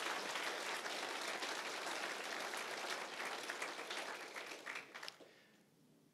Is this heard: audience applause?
yes